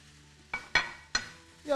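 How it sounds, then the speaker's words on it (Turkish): Zucchini and peppers sizzle in a pot for chicken tas kebab, with three loud stirring scrapes and knocks against the pot over a soft frying hiss, up close and without talk. "Ondan sonra kabaklarımızı içine ilave edip onlarla beraber kavurmaya devam edeceğiz."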